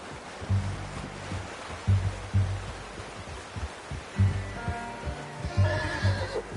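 A horse neighs and whinnies repeatedly in the western video game Red Dead Redemption 2, loud and close, with snorts and hoof-like thumps between calls and no talking.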